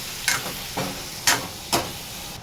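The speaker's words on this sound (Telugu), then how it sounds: "ఇప్పుడు మనం మెత్తగా గ్రైండ్ చేసిన ఈ మిశ్రమాన్ని ఇందులో వేయాలి." Ground spice paste goes into a hot pan for chicken curry, giving four sharp sizzling bursts spaced about half a second apart over a low steady frying hiss, with no voices.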